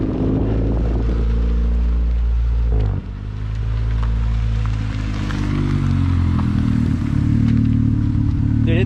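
A Mazdaspeed3 driven hard, its engine and exhaust roaring loud and close in a continuous, surging drone, with a brief dip in the revs partway through before it pulls back up.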